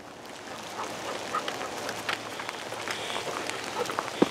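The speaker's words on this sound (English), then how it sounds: "Starting to rain quite a bit now, but still so far not that bad." Rain falling steadily on a mountain hiking trail near Pulpit Rock, a soft continuous patter with scattered brighter drop hits, close and moderately loud, without talk.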